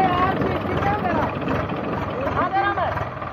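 A Swaraj 744 FE or Kubota MU 4501 tractor engine idling steadily just after starting, a continuous near drone with people talking over it.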